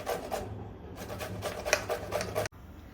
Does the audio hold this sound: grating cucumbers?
yes